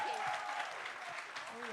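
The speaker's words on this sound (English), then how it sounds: "a huge round of applause for them as well" Audience clapping at a student community awards ceremony, faint and steady beneath a voice speaking over it.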